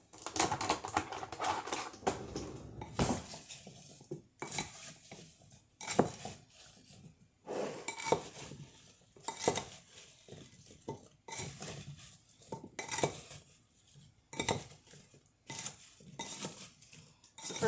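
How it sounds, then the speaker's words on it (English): Apples and sugar stirred in a bowl, a spoon clattering and scraping against the sides in repeated bursts of knocks and scrapes, close and fairly quiet, with no voices. "And now we need to stir that up."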